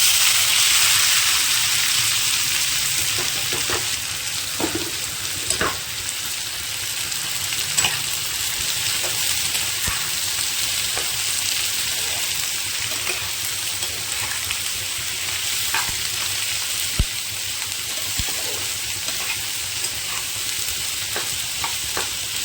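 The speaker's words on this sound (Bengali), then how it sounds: "পেঁয়াজটা হালকা একটু ভাজা ভাজা করে নেব" Raw onion frying in oil with two dried red chillies, a loud steady hiss and crackle that runs on with scattered spatula taps and pops.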